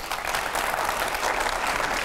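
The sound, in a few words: studio audience applause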